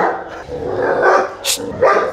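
A young Cane Corso dog lets out a few loud, close barks and yips in quick succession, with short gaps between them.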